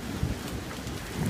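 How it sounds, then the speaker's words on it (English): Steady rain with wind during a thunderstorm outdoors, heard from under a sheltered porch, a continuous broadband wash with low rumbling swells and no voices. "Do you like the thunderstorm?"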